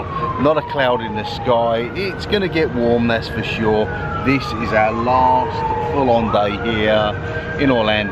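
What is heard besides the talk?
emergency vehicle sirens in Orlando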